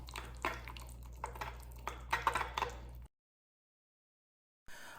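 A spoon stirs strawberry compote into a cake glaze for a Meyer lemon-cranberry Bundt cake, giving soft scraping and clinking against the bowl for a few seconds before the sound cuts to silence.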